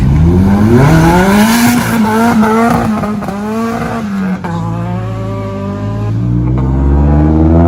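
Ford Fiesta revving hard and pulling away at a car meet with burnouts and drifting, a loud close engine note climbing in pitch, then easing and rising again over steady crowd ambience.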